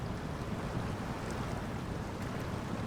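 A truck pushes through dangerous deep water in SnowRunner, heard as a continuous broadband rush and slosh, loud and unbroken, with no voices.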